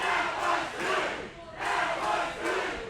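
A pro wrestling crowd roars and shouts in repeated surging waves, loud and reverberant in an indoor arena, with no clear speech over it.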